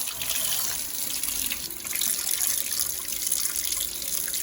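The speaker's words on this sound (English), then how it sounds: "easy to rinse out" Steady running water from a tap rinses a stainless steel julienne peeler with sharp blades, a continuous broadband splashing stream that stays close and even from start to finish, with no talking.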